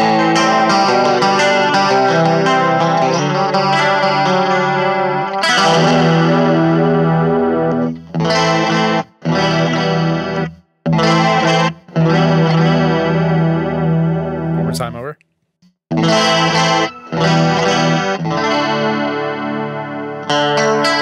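Electric guitar played through a NUX chorus pedal, shimmering warbled chords and single notes with distortion, broken by several brief silent gaps, loud and close with no voices.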